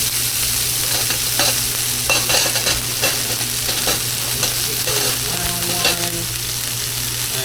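Butter melting in a hot pan with catfish belly, sizzling and frying steadily with stirring clatter and a few sharp utensil taps, close and fairly loud with no voices.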